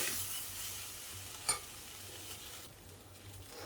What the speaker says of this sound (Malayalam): നമുക്കിനി ഇത് അല്പം കടുകും കരിവേപ്പിലയും എല്ലാം കൂടെ വറുത്തതിലേക്ക് ഇട്ട് കൊടുക്കാം